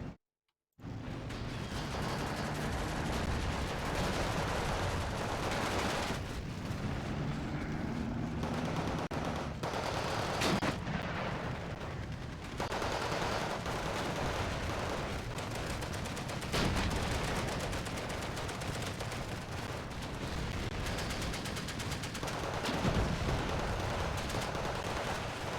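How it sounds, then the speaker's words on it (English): Half-tracks fire in a town battle in the game Steel Division 2, with dense bursts of gunfire and rumbling blasts running almost nonstop over a steady roar of combat noise. "Half-tails are shooting. There's a lot of action in town right now."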